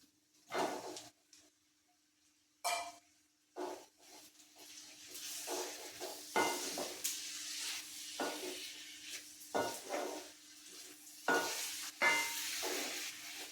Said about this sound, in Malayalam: ഇനി ഇതിൽ നമുക്ക് നമ്മുടെ വഴുതനങ്ങ ഇട്ട് കൊടുക്കും